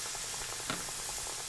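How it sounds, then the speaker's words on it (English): Pieces of karaage chicken spit and crackle in hot frying oil, a steady close bubbling sizzle with no voices over it. "So it'll start to sizzle immediately."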